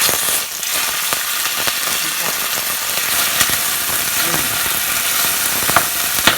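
Pork slices frying loudly in a pan, a steady dense crackling sizzle with sharp pops throughout, close and continuous with no talking.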